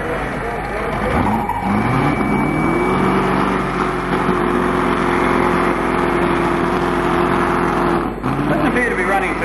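A pulling tractor's engine runs roughly at a tractor pull, a loud, continuous strained roar with uneven, wavering tone under a commentator's voice, dipping briefly near the end.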